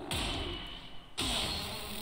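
Bees from a hive buzz in the video game Valheim, a steady close drone that cuts out briefly partway through and then comes back just as strong.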